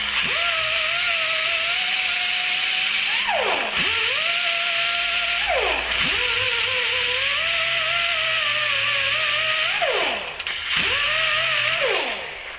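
A loud, continuous grinding of a metal brake line fitting on an F450 dump truck with a power tool, its whine dipping and rising as it bites in several times, with no talking.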